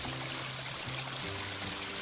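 Water running steadily through a cut channel alongside a flooded rice field in Konkan during heavy rain, a continuous close-up rushing and trickling sound with low droning tones underneath and no talking.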